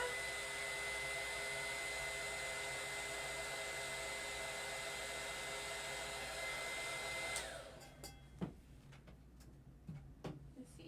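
A hair dryer blowing steadily on a tumbler being crafted, a loud, constant whoosh that cuts off partway through, leaving faint clicks and handling sounds.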